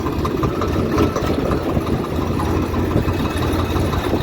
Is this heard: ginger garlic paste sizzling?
no